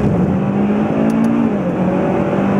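A turbocharged Mitsubishi Lancer Evolution X engine drones loud and close, its pitch holding steady then dipping as the revs drop, with a faint whooshing turbo roar underneath.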